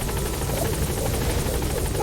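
Helicopter in the video game Metal Gear Solid V: The Phantom Pain, a steady, loud rotor thrum and engine whine droning continuously as if hovering nearby, with no talk.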